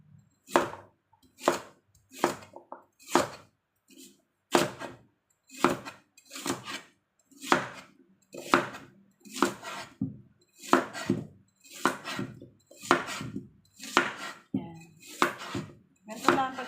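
Carrots are cut into small pieces with a knife on a board for soup, giving a steady series of sharp, close chopping knocks, roughly one per second, with a short pause partway through.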